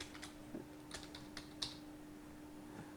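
Keyboard typing while entering names into a Python console prompt, a few scattered faint keystrokes with one louder tap, sparse and quiet against a low steady hum.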